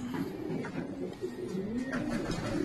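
Racing pigeons entering their loft during a truck training session, a steady chorus of soft, throaty cooing close by with faint rustling and no talk.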